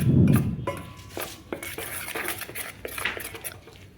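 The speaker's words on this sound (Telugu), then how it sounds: "కొంచెం సరిపడా ఉప్పు వేసి కలబెట్టండి" Idli batter being mixed with salt in a metal bowl: a muffled thump, then a run of close clinks and scrapes from a spoon against the bowl, brisk and uneven, with no talking.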